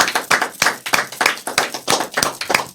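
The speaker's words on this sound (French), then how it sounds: "on applaudit Audrey" Steady, rhythmic clapping for Audrey, third-place finisher in a live Christmas song cover contest, with sharp, evenly spaced claps repeating about four times a second, close and fairly loud, without talk.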